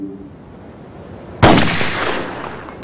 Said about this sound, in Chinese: 刚才响亮的枪声是从楼顶的狙击点激发的